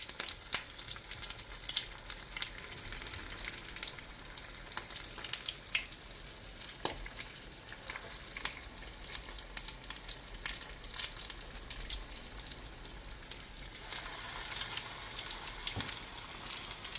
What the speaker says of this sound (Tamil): இப்போ நல்லா பொரியட்டும்.